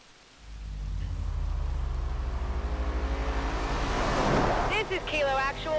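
Steady rain hiss in the racing game Forza Horizon 4, a continuous broadband wash with a low engine-like rumble beneath, growing denser toward the end as a voice cuts in briefly.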